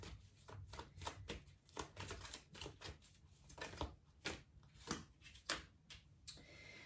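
Tarot cards being shuffled by hand in a quiet room, a soft papery riffle that comes in a dozen or so quick, uneven bursts with brief pauses between them, faint and close, with no talking.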